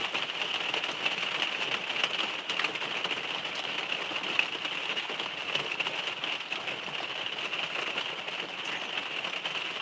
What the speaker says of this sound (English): With the rain. Is it too loud now?